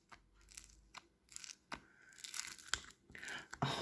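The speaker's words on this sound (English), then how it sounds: "This slime is so fluffy and crunchy." Fluffy crunchy slime worked by hand from a tub, giving close, faint crackling and crunching pops in irregular bursts with quiet gaps between.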